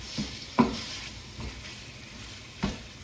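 Charred fond being scraped and stirred into a pan while chicken and sausage pasta cooks, a few short scraping strokes over a low, steady sizzle, close up with no talking.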